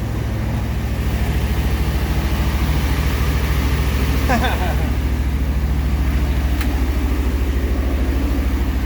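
A 1959 Ford Galaxie Fairlane 500 engine idles steadily up close, a loud continuous low rumble with a brief rattle partway through, after sitting for 14 years.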